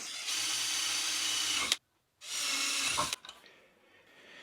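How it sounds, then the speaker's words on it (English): A power drill bores holes into hard plastic in two loud, close bursts of whining, hissing drilling, split by a short silent pause. The second burst is followed by quieter scraping and handling. "So what I do then is I just drill a hole or two."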